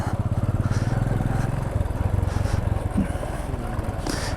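A motorcycle rides up a narrow cemented hill road toward a waterfall near Kathmandu, its close engine putting steadily with an even pulse.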